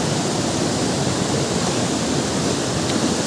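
River current rushing over rocks at a wild, gold-panning spot, a dense, steady roar of broadband water noise, loud and close with no pauses and no talk.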